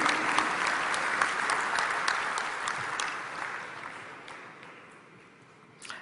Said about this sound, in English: I want big round of applause